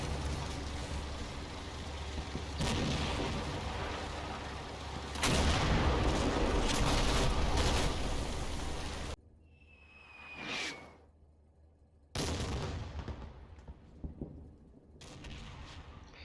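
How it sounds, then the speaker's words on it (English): American artillery fire in the World War II game Combat Mission Kampfgruppe Peiper, long stretches of rolling, roaring barrages with sharp blasts, a whooshing incoming round in a quieter gap, then more heavy explosions. "American artillery."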